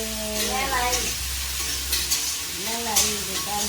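Potatoes fry in a pan with a steady, close sizzle and the scrape of stirring during home festival cooking, while voices talk intermittently over it.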